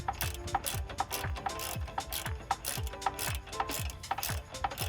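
Hand ratchet clicking rapidly in repeated strokes while tightening bolts and nuts on a steering kit for a 1997-2006 Jeep Wrangler TJ, close and crisp with a steady back-and-forth rhythm.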